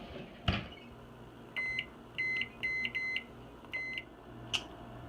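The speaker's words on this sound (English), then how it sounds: "we're going to go ahead and set the timer, like I said, for about 7 to 8 minutes" An oven timer being set gives a series of short electronic beeps, about seven crisp tones in an irregular rhythm over a low room hum.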